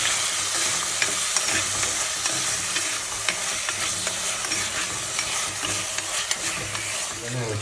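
Garlic, ginger, curry leaves, green chilli and chopped tomato stirred while frying in a pan for a Kerala fish curry, a steady close sizzle with scraping spoon strokes throughout and no talk.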